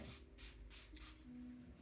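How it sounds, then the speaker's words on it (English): Four short, close bursts of water from a hand spray bottle spritz onto backing paper in an evenly spaced rhythm, with no talking. "I'm going to spritz it with some water"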